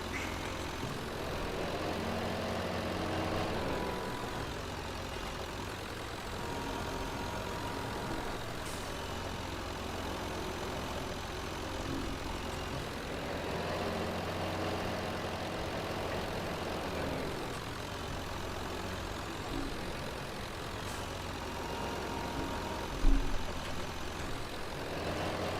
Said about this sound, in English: The old tractor's flexing now.